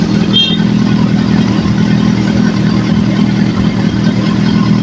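A car engine idles after a cold start, a steady, loud low rumble holding evenly close by as the revs settle lower.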